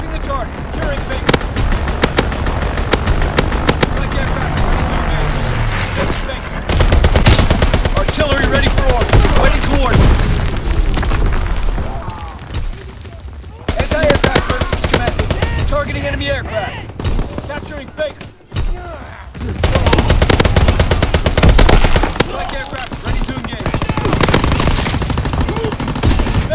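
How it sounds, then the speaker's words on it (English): Heavy machine-gun fire in the Call of Duty: WWII multiplayer map Shipment, set in 1944, rattles in long loud bursts with short gaps, while radio-style voice callouts come through between volleys. "Strafing the target."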